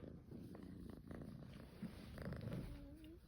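A cat purrs steadily and softly up close, a continuous low rumble with no talk over it.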